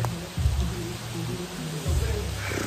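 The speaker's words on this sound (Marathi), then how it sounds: "एकदम छान पाऊस पडतोय" Continuous rain pours down as a broad, even hiss, with faint low murmurs of a voice underneath.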